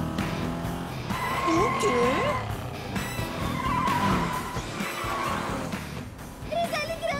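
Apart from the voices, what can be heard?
small cartoon car engine noise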